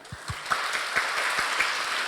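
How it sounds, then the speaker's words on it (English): A seminar audience at a Hong Kong fashion summit panel discussion claps for a panelist, with a few separate claps at first that grow into a short, moderately loud burst of applause. "Let us give a big hand to Patrick."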